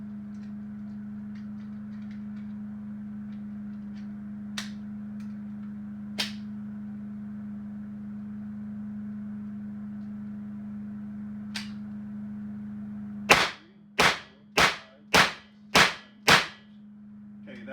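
AEA BW S45 mini .357 air rifle firing 125-grain rounds: a few isolated sharp cracks spaced apart, then a rapid string of six loud snapping shots in quick rhythm over a steady low hum.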